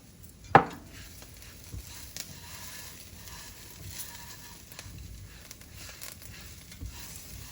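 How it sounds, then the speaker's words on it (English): Cumin and fideo noodles toast in a pan with a soft, steady sizzle, opened by a sharp clink near the start and broken by faint scrapes and taps of a utensil. "Now I'm going to put some of my cumin in here to toast up."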